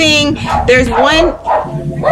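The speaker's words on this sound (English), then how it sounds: "if you hear my dogs barking in the background" Dogs bark and yip in the background while someone talks loudly over them, the barks mostly masked by his voice.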